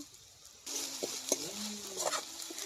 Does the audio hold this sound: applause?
no